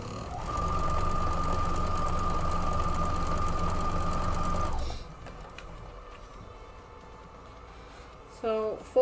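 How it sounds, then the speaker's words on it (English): A sewing machine stitches quilt block pieces together, running in one steady, loud whirring burst for about five seconds before stopping, followed by quieter handling sounds and a brief rustle near the end. "I'm going to go ahead and sew that up together real quick"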